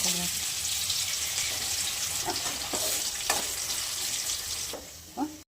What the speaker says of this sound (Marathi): हा पण बटाटा तसाच तळून घेऊया.